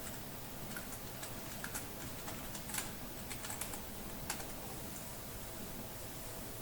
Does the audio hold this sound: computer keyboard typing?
yes